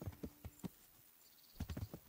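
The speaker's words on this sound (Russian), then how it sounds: "Лошадь." Horse hooves clip-clopping in the medieval game Kingdom Come: Deliverance, a short burst of hoofbeats, a pause, then another quick cluster of steps, fairly close and clear.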